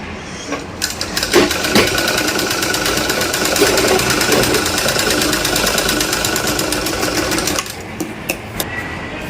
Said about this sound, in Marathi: हाताने मशीन सरपायची म्हणजे हाताने सरपायचंय मशीन चालवायचे नाही जोरात